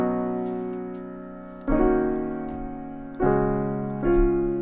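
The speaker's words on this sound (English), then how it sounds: "I'm gonna use this sound called grand piano" Grand piano sound from Sky Keys, four soft sustained chords struck one after another and left to decay, playing alone.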